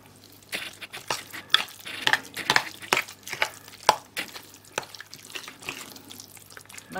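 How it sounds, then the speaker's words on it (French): A spoon stirs tzatziki sauce in a bowl, making soft irregular scrapes and wet clicks in an uneven rhythm, close and fairly quiet. "je vais mélanger tout ça"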